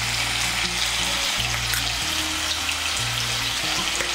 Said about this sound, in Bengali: নুন আর হলুদের গুঁড়োটা মিশিয়ে নিয়ে আলুগুলোকে লাল করে ভেজে নেব